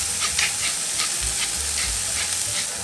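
Foie gras sears in a hot pan with a loud, close, crackling sizzle, the spattering rising and falling in short pulses, with low thumps of the pan being moved underneath.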